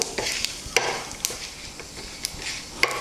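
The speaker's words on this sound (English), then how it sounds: "It's time for us to add the jeera and let that sizzle for another 10 seconds or so." Cumin seeds sizzle softly in hot oil while a spoon clicks and scrapes against the pan a few times, close by.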